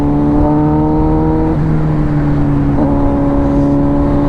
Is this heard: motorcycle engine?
yes